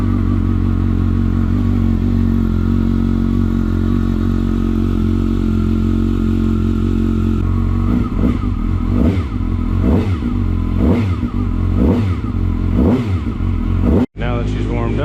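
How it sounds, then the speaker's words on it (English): A Kawasaki ZX-6R race motorcycle cold-starting, idling steadily at first, then a series of sharp throttle blips before the engine cuts off abruptly near the end. "It's a cold start."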